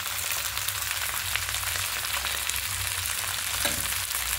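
Vegetables fry in a pan for vegetable egg chowmein, giving a steady, dense sizzle that runs unbroken throughout, close and fairly loud with no talking.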